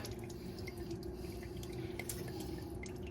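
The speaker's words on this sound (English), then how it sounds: "And we could just let it drip for a bit, just to catch that excess oil" Engine oil drips slowly from the drain of a 2007 Kia Spectra during an oil change. Faint, sparse drops ring softly over a low, quiet background hum.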